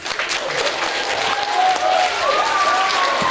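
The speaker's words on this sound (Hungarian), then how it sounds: "Tapsoljátok meg az anyját." Audience applause at a live stage appearance in Sümeg, a dense, steady clapping that swells slightly midway and carries on through the whole stretch, with a voice faintly mixed in.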